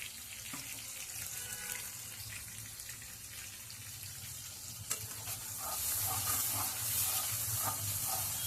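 Green masala paste fries in oil in a pan, a steady broad sizzle that grows louder near the end, with a brief clink partway through.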